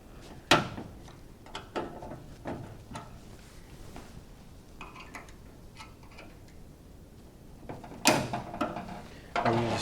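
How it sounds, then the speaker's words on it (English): A drawer on a classic Blackhawk tool chest slides out during restoration, giving a few sharp metallic clicks and rattles near the mic, with a louder clatter toward the end. "you just slide the drawer right out."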